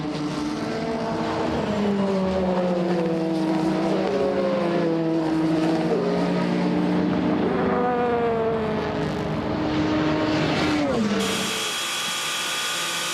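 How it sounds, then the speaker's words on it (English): Toyota race cars at the 24 Hours of Le Mans pass in a close battle for second and third, engines whining and shifting through gears for a sustained, loud stretch before an abrupt change in the sound. "As the Toyota is right on his tail of Nakajima, so that's second and third position just going through your shot"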